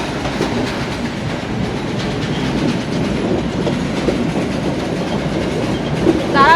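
A train rolls through Moratuwa station in Sri Lanka without stopping, a steady loud rumble of wheels on rails with clickety-clack rhythm throughout and a brief wheel squeal near the end.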